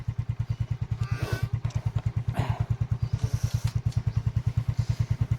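A motorcycle engine idles close by with a steady, rapid thumping rhythm throughout, with faint clatter and background noise above it.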